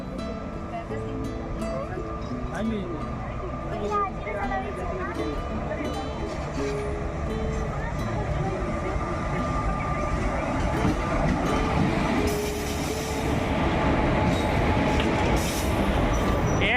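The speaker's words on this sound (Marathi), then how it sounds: "ट्रेन आली बघ" A train rumbles past steadily and loudly with clattering wheels and occasional squeals, while voices talk faintly nearby.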